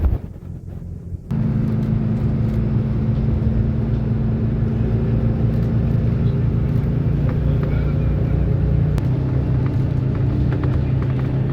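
Riding the F49 bus in Dubai: a low, steady engine and road rumble fills the cabin, starting abruptly after a short quieter moment and holding constant throughout.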